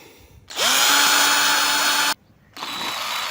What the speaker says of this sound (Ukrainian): Сверлимо два отвори.